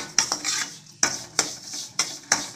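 Semolina (rava) roasts with cashews in a heavy pan, stirred by a spoon that scrapes and clinks against the metal in a quick, regular series of close strokes, with no talk.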